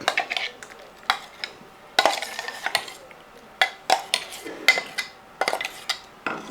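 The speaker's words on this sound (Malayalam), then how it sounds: "ഇത് നന്നായിട്ട് മിക്സ് ചെയ്തെടുക്കുക നല്ല പോലെ ഇളക്കിയിട്ട്" A spoon stirs and mixes in a pot of tamarind water, producing repeated close clinks and scrapes in an irregular rhythm of short bursts with brief pauses between them.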